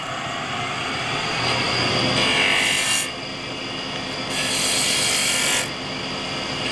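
A gouge chisel cuts a bead into spinning wood on a lathe, making a steady close scraping hiss with two louder, brighter bursts as the edge bites deeper.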